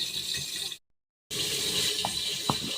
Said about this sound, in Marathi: त्याच्यात थोडंसं मी पाणी घालणार आहे